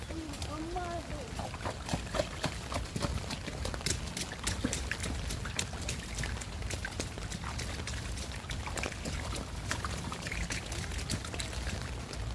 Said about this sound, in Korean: 엄마 이거 첨벙첨벙 해라. 첨벙첨벙 해봐.